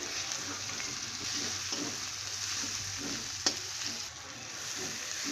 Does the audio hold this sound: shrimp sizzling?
yes